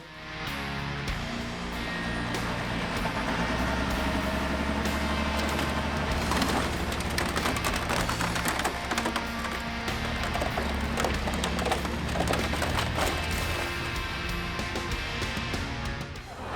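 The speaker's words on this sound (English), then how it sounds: "we're gonna put that track over the entire bike instead of just hitting it in small spots" A tank drives its tracks over the whole of a motorcycle, and a loud, sustained crunching and splintering rides over the heavy rumble of the engine and the clanking tracks.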